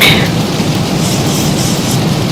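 Simulated thunderstorm with lightning during a flight-simulator approach, a loud, steady wash of rain and rumbling thunder filling the whole short stretch.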